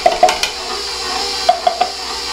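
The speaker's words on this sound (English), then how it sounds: "I'm just going to go ahead and add in my finely chopped pecans" Finely chopped pecans being added and mixed into crumbly, sand-textured dough for Mexican wedding cookies, with a few sharp scraping knocks against the bowl over a steady low background.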